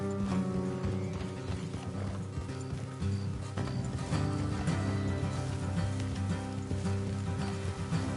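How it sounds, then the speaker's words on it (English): Steady rhythmic hoofbeats of horses trotting in Red Dead Redemption 2, blended with a continuous musical score, moderately loud throughout. "Let's leave the horses here and go the rest on foot."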